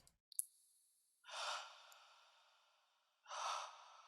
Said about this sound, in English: So I recorded myself breathing into the mic.